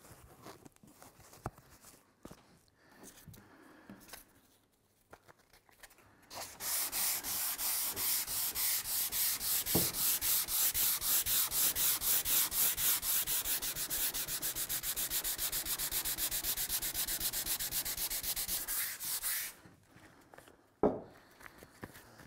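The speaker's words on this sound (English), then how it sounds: "And now I'm going to sand this again with the 180." Hand sanding of a mid-century teak table top with 180-grit foam-backed paper on a block: a steady, close rasping scrape of rapid back-and-forth strokes lasting most of the stretch, with quieter handling and bumps before and after.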